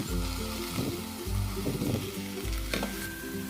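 Cauliflower and green peas frying in a pan with freshly ground masala for a kurma: a steady, close sizzle with rhythmic stirring scrapes over a low droning tone.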